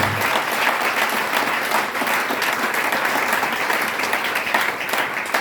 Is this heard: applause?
yes